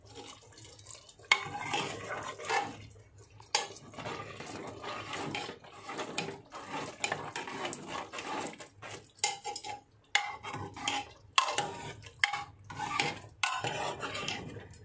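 A spoon scrapes and clanks against a pot while bottle gourd vegetable curry is stirred, in irregular rapid bursts of close metallic clatter with short pauses, no talk.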